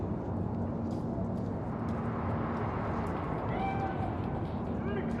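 A cat meows faintly a few times in Cyberpunk 2077, thin and distant beneath a dense layer of ambient noise, with a voice present in the scene.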